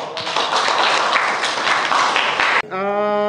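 Audience applause at an Indonesian university academic presentation, a brief burst of steady clapping that stops abruptly and gives way to a tonal sound.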